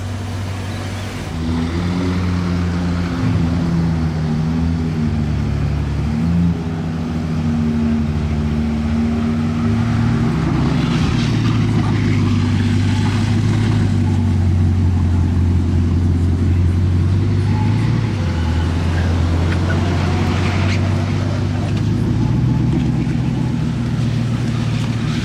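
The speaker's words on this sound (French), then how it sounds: "Vous avez vu le bruit de la 812?" Ferrari 812 supercar driving through Monaco, a loud, sustained V12 engine drone that rises and falls in pitch as it accelerates and shifts, close by and heard alone.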